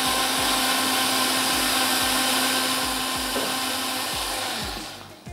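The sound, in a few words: blender blending a drink mixture with sugar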